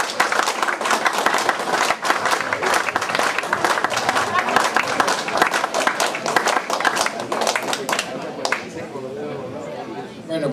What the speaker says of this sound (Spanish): pido un aplauso fuerte a prisa para Armando Villanueva del Campo